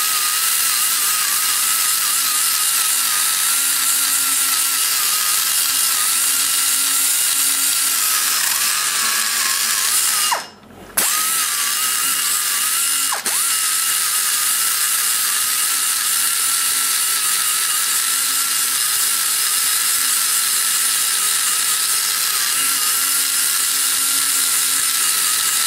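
Die grinder working a port on a 345cc big-block Chevy cylinder head, a steady high-pitched whine running almost continuously up close, with one brief pause in the middle.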